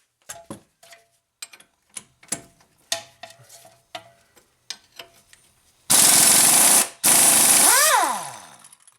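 Wrench with a 21 mm socket on the strut bolt nuts of a Nissan Rogue during CV boot work: a series of sharp ratchet clicks and knocks, then a loud sustained power-tool whir that spins down at the end.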